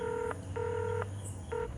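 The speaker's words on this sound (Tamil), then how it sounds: "ஓ ஃபோன் பண்ணிட்டுருக்கியா?" Three distinct telephone keypad dialing tones beep in sequence, each steady dual-tone burst lasting about a quarter to half a second, clear and fairly close with a low background hum.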